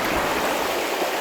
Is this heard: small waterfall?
yes